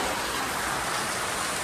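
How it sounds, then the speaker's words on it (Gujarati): Heavy rain pours down in a dense, unbroken roar of drops striking surfaces, loud and close throughout, with no voices. "ફૂલ વરસાદ ચાલુ છે"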